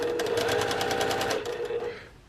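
A sewing machine stitches quilt fabric scraps, right sides together, with a rapid steady needle rhythm for about two seconds before slowing to a stop; no talking.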